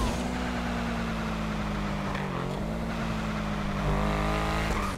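A sports car engine in GTA 5 Online, an Obey 8F, roars steadily at speed, with the pitch dipping and then climbing again, while a voice talks faintly underneath.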